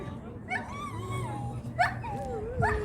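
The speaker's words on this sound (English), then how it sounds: "The party dog in the background." A dog at Portobello Beach in Edinburgh gives drawn-out rising and falling whines broken by a few short, sharp yips, fairly close and continuous throughout.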